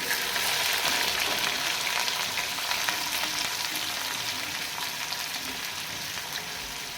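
Onions frying in a pan with whole cumin, giving a steady close crackling sizzle with bright spitting pops, alone and without talk.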